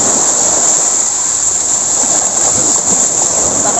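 Steady broadband roar of sea waves and surf at a beach, continuous and fairly loud, with a constant wash and no clear breaks or voices.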